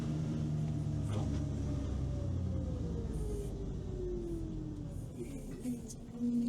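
Car driving along a road, a continuous low engine rumble with road noise and a slowly falling tonal whine, steady and close from inside the vehicle.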